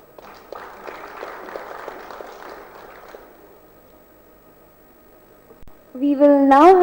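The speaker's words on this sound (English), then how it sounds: "Can I have a round of applause for Miss Apurva Pokarna from Pokarna Engineered Stone Limited?" Audience applause at a seminar: a steady patter of hand claps over roughly three seconds that fades out, followed by a brief tonal sound near the end.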